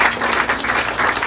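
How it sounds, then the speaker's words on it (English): Brief audience applause at a historic preservation awards ceremony, a short burst of dense clapping from a crowd, fairly close and steady. "Round of applause for them, please."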